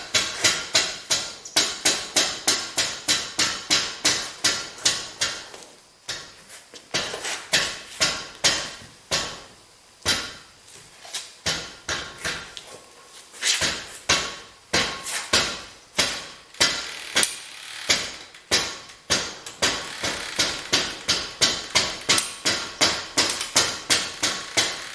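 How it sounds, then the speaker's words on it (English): A hammer strikes repeatedly while a rubber tire is worked onto a wheel, sharp metallic blows coming in fast even runs with short pauses between bursts, loud and close. "Walk around it with a hammer,"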